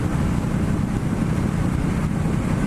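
A new motorcycle cruises in sixth gear on the highway at about 70 mph and 3,600 RPM, with a steady, loud engine drone and wind rush that stay unbroken throughout.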